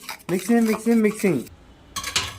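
Spoon clinking against a bowl as omelette eggs are beaten with chili powder and salt, a brief burst of light metallic taps near the end after a stretch of tonal, voice-like humming.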